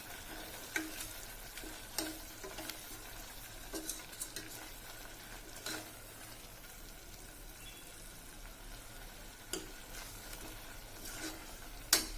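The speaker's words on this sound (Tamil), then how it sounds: "நல்லா கிளறி விட்டுக்கணும்." Tomato rice masala with biryani masala and chilli powders being stirred in a frying pan, a soft continuous sizzle broken by occasional light scrapes and taps of the spoon against the pan.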